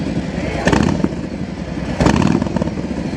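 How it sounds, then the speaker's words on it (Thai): A Harley-Davidson Street Glide M8 with a modified baffle exhaust, idling loudly up close and then revved twice in quick bursts that rise and fall back to a rumbling idle. "เรามาเปิดคันเร่ง"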